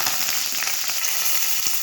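Mustard seeds, stone flower and a bay leaf frying in hot oil for a kurma, giving a steady, close, continuous sizzle with scattered tiny pops from the seeds and no talking.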